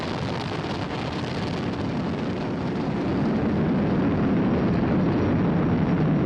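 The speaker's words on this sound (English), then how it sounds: "Flying crew on board Dragon and Falcon 9, and look at them go." Falcon 9 rocket with the crewed Dragon capsule climbing during launch, heard as a loud, continuous roar that swells slightly partway through and holds steady with no voices.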